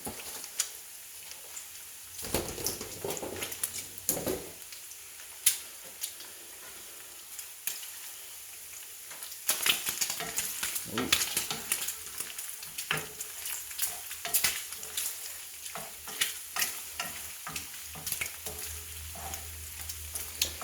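Bacon frying in a pan over medium-high heat, a quiet steady sizzle with scattered sharp pops and crackles, louder bursts through the middle.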